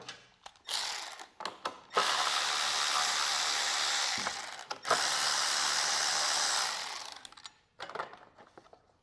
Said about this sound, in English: we're going to go ahead and take off this bottom cover now, which should just be a bolt right here and a bolt right here